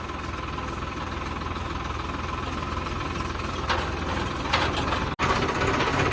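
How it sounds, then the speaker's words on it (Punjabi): A tractor engine runs steadily nearby on a farm during potato planting, with a low rumbling knock, a few mechanical clanks and a brief dropout near the end. "ਆਪਾਂ ਹੁਣ ਦੂਆ ਟਰੈਕਟਰ ਲੈ ਕੇ ਚੱਲੇ ਖੇਤ ਵਿੱਚ"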